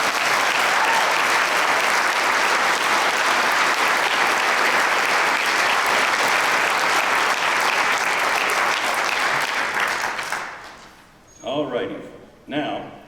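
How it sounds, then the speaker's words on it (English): A concert hall audience applauds a concert band with sustained, dense clapping that stays loud and steady for about ten seconds. The applause then fades, and brief bits of speech-like sound follow. "Can we give them another round of applause, please?"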